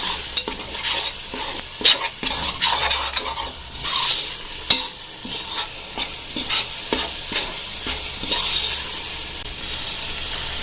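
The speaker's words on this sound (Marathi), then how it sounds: "तर मित्रांनो आता मी याच्यामध्ये बिर्याणी मसाला सुद्धा ॲड करते तुम्ही बघू शकता पद्धतीने सगळं मिक्स करून घेऊया" Chicken frying for biryani with biryani masala being mixed in, a steady loud sizzle broken by repeated scraping strokes of a spatula against the pan, no voices.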